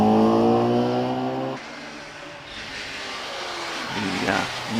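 A lightweight 120cc race car at the Prescott hillclimb, British Hillclimb Championship, revs high through the S-bends, then the engine note drops away and fades to a distant drone while a commentator talks over it.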